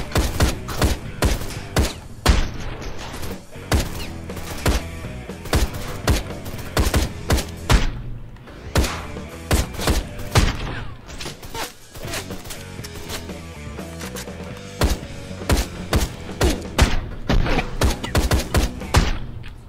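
Dense, continuous gunfire in the motorcycle action game Ride to Hell: Retribution, with rapid overlapping shots and heavy thuds forming a loud, relentless barrage.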